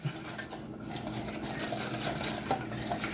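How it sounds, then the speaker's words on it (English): A whisk beating wet ingredients in a bowl for a crab filling, a close, quiet, rapid scraping and clinking that runs steadily throughout without speech. "So whisking all that wet in there."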